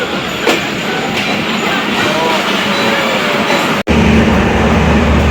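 Awam Express passenger train rolling along rails in fog, a steady loud rumble throughout with a sharp cutoff near the end, then a deeper, heavier roar as it continues; voices faintly present.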